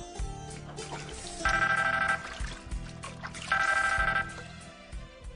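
A telephone rings in two bursts of bright, steady ringing with a pause between them, heard indoors over a low background hum.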